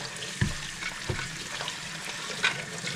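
Tap water runs steadily over Arai motorcycle helmet parts and the helmet strap in a sink, a continuous close hiss with a few soft splashes and knocks.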